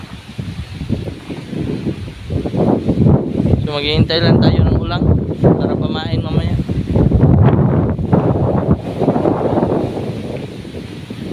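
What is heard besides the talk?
strong wind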